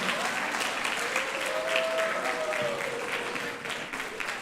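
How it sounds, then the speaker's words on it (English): A school assembly audience applauds for the color guard, a steady wash of many hands clapping at moderate volume from the crowd, with faint voices mixed in beneath. "Can we get a big round of applause for our color guard?"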